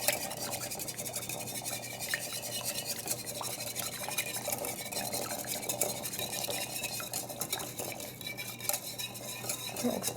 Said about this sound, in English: So then you're going to grab your whisk and whisk away.